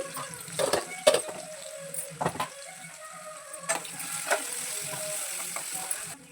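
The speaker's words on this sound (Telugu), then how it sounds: "ఈ ఉల్లిపాయ ముక్కల్ని లైట్గా ఫ్రైలా చేసుకోవాలండి" Chopped onions, green chillies and turmeric frying lightly in a pan, a soft steady sizzle with a few clinks and stirring scrapes, close and moderate in level, no talking.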